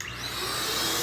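An XPOWER canister blower runs on low with its cone removed, a steady airy whoosh with a broad even rush and a faint motor hum, heard for about a second at a few feet.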